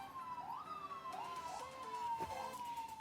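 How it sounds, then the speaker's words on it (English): Police sirens wail through a New York street, a rising and falling electronic tone sweeping repeatedly over steady city background noise, moderately distant and with no one talking. "What do you believe about those sirens going off right now?"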